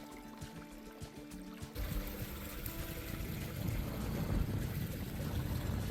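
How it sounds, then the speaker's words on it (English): Fresh water runs in a natural creek bed in the Flinders Ranges, starting as a quiet trickle and swelling after a couple of seconds into a steady, close babbling flow with no voices. "my first sight of natural fresh water flowing in the ranges"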